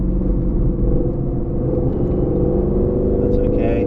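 Aston Martin Vantage engine rumbling steadily on the Silverstone circuit as the driver brakes and drops two gears, a loud continuous low drone close inside the cabin with no clear breaks.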